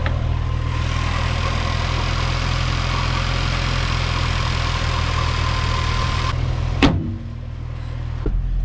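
A secondhand bargain car's engine idles too high with a steady, loud drone and a blubbering, uneven note, running alone for several seconds before a brief clunk and a quieter idle continuing afterward.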